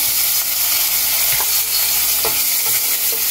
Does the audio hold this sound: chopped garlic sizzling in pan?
yes